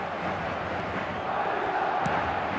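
A stadium crowd in the eFootball 2026 football video game roars steadily at match start, a dense, loud wash of cheering and chanting with a brief sharp accent near the end.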